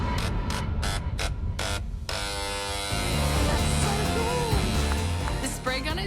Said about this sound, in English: The spray gun is so noisy and kind of fierce.